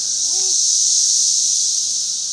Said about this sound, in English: Those are the cicadas.